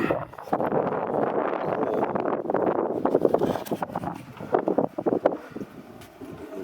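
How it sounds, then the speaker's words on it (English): Gusty wind buffeting outdoors, rushing and roaring in uneven surges, with choppy bursts of microphone wind noise toward the end, fairly close and alone without talk. "Wind."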